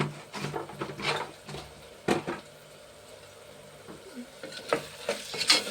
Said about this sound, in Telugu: కారం కూడా ఆనియన్స్కి పట్టేలా కలుపుకోవాలి